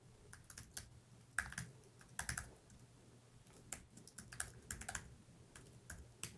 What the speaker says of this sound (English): To set up an account, type in your email address,